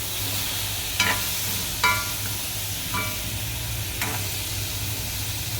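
Meat coated in ground and blended rendang spices is stirred in a frying pan: a steady sizzle of frying runs under scraping strokes of the utensil that come about once a second.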